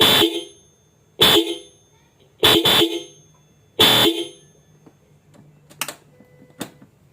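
A Hella Classic double disc horn fitted to a Yamaha All New NMAX blares four loud, close honks, short and longer blasts with pauses between, followed by faint clicks.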